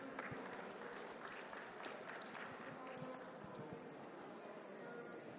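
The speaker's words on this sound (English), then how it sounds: "please give them a big round of applause" An audience at a panel discussion on African digital trading gives a big round of applause, a faint, dense patter of clapping from a crowd heard at a distance, with murmuring voices underneath.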